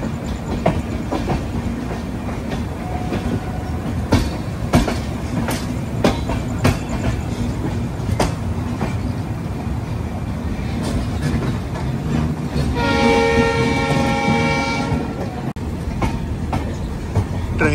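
Hamsafar Express rolling out near Jaipur, with continuous rumble and sharp, regular clickety-clack wheel beats throughout, and a sustained horn blast rising over the run toward the end.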